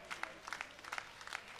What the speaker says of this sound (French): On peut déjà acclamer pour la sœur là-bas